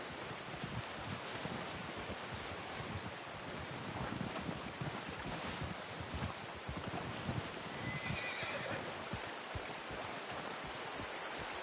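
A horse whinnies faintly in Red Dead Redemption 2 amid a constant wash of wind and surf-like noise, with soft hoof-like thuds underneath.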